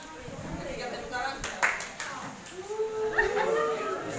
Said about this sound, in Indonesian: Kita sama-sama berikan aplaus cinta.